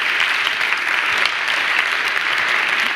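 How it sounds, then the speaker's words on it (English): Audience at an academic career workshop applauds a panel, with continuous dense clapping from many hands, loud and steady. "we applaud the panel."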